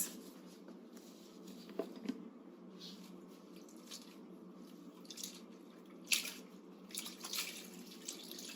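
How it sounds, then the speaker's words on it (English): Soft trickling and dripping water as feet are rinsed during a bed bath, faint and close, with small splashes and drips scattered over a quiet background. "And rinse in between your toes."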